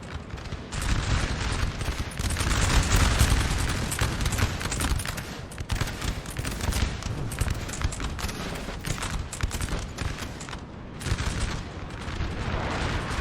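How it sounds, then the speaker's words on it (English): French artillery and massed musket fire pound away in a Napoleon Total War battle, a loud continuous crackling barrage of shots and booms that barely lets up. "Artillery for France definitely shredding up this line a little bit"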